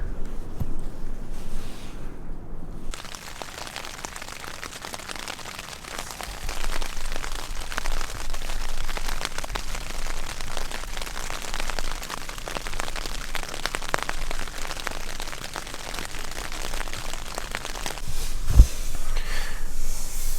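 Heavy rain pours steadily on a beach stealth camp near a lifeguard station, a dense, constant hiss of drops on a surface lasting throughout, close and loud with no talking.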